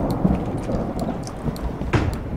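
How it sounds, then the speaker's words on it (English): Steady rain with low thunder rumbling in Escape the Backrooms video game, a continuous wash of rainfall with a brief brighter crack near the end, no talking. "Now I hear rain."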